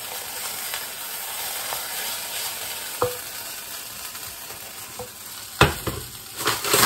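Pasta tipped into a hot pan and stirred, with a steady sizzle of frying and a few sharp clatters and scrapes of a utensil against the pan, growing louder toward the end.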